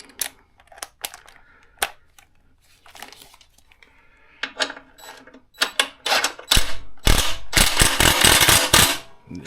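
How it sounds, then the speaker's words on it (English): An impact gun fastens bolts on a skid plate for a 2024 Suzuki DR650 motorcycle, starting with scattered clicks and handling noises, then loud close bursts of rapid hammering in the final seconds. "I'm going to be using a super duper impact gun"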